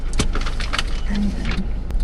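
Car pulling away, a steady loud engine and road rumble filling the cabin, with light rattles and a faint jangle over the top.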